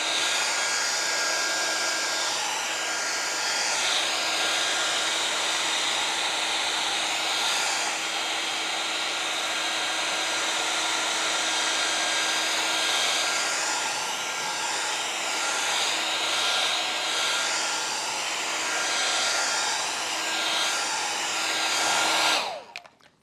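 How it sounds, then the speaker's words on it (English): A hair dryer blows steadily on a freshly painted pumpkin, a loud, constant whirring drone with a fixed hum that runs unbroken for over twenty seconds before abruptly cutting off. "Now, I'm going to blow dry just in case."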